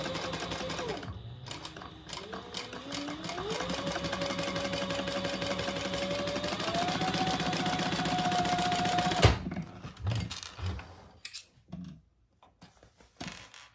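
A sewing machine bastes a narrow eighth-inch seam in a fast, continuous whirring run with the pitch rising as it speeds up, then stops abruptly, followed by a few quiet handling clicks.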